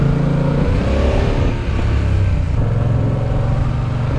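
A motorcycle engine drones close by on a slalom exam course, its throttle held steady and rising through the gates, with the pitch climbing and dipping slightly as it weaves.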